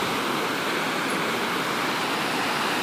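Creek water flowing near the headwaters, a steady broadband rush with no breaks, close and fairly soft.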